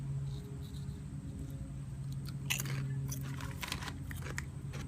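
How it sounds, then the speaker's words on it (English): Someone bites and chews crunchy Starbucks barbecue-style sweet potato chips, a few faint crisp crackles clustered near the middle over a quiet background hum. "Good crunch."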